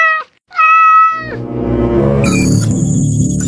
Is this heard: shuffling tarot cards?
no